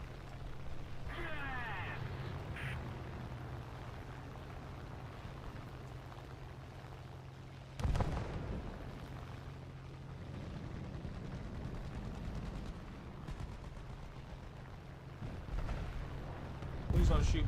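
Bombs burst in a tank battle video game, with a sharp boom around the eight-second mark and another near the end over a steady engine rumble and ongoing talk.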